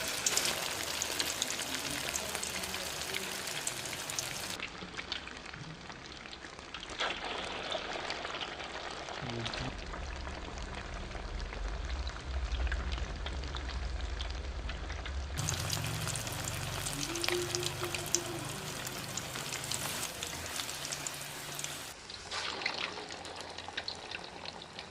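Squid bonda batter drops into hot oil and fries with a steady crackling sizzle like rain, under intermittent talk, with a louder bubbling burst in the middle as more batter goes in.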